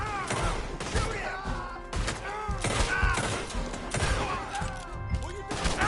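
Gunfire in Red Dead Redemption 2 rings out in repeated loud shots and crashing impacts through a chaotic shootout, with voices talking over much of it.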